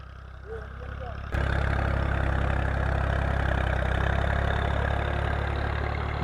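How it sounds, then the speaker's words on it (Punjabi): A tractor pulling a rotavator works a rice field near a village in Punjab; its loud, steady, low engine drone starts abruptly and runs without a break, close by. "ਉਹ ਸਾਹਮਣੇ ਇੱਕ ਰੂਟਾਵੇਟਰ ਫਿਰ ਰਿਹਾ"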